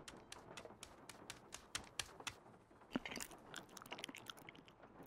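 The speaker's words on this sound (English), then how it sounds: "I don't like the chewing noises." A pet chews a treat up close, making steady wet crunching and biting clicks in a quick irregular rhythm, fairly quiet and alone.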